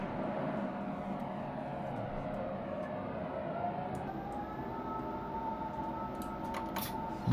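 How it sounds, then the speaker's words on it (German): Airplane sound effects in the train game Train Simulator Classic on Berlin's S25 line: a sustained whining aircraft tone with a gliding pitch over a low rumble, with a few faint clicks late on and no speech. "Die typischen Flugzeug-Soundeffekte gerade eben."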